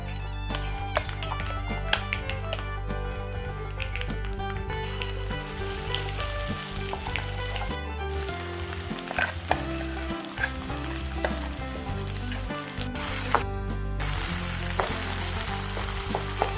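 Coriander chutney ingredients fry in hot oil in a pan, a continuous close sizzle broken by the clink of a utensil stirring against the pot, with no talking throughout.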